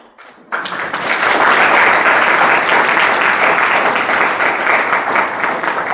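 An audience at a Christian sermon bursts into loud, sustained applause after a brief quiet opening, the clapping staying strong and even until the end.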